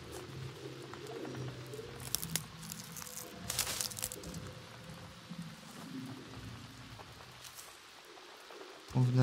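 Rain falling in the video game Avatar Frontiers of Pandora, a soft continuous patter with scattered crackles and drops, while someone speaks over it.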